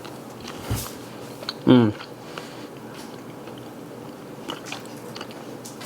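Biting into and chewing tender cooked meat from the farm, with a couple of soft wet bites and a short squishy chew up close, then quiet ambience; a brief murmur of appreciation is heard.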